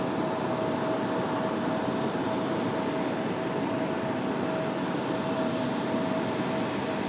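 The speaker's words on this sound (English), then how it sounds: "8188 coming in from SFO 737 MAX 8." A Boeing 737 MAX 8 jet arriving from SFO at Raleigh-Durham airport gives a steady, broad engine roar that holds evenly and loud throughout, with a faint high whine running on top.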